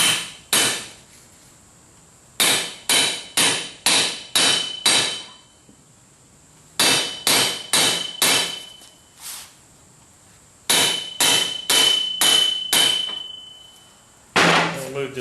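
Sharp metallic hammer blows driving a bearing into a baler bore through a socket on a New Holland 630 baler, struck in quick bursts of four to five ringing hits separated by pauses, loud and close.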